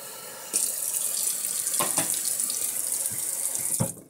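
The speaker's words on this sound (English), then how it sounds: "Just running some water." A tap runs in a steady hissing stream into a sink, starting abruptly and continuing close by with a few clunks before it cuts off.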